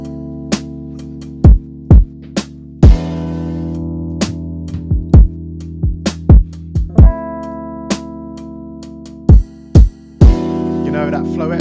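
An R&B beat plays alone: sustained warm chord progression under sharp, evenly spaced drum hits, a kick-like thump and snare cracks repeating in a laid-back groove at close, full loudness.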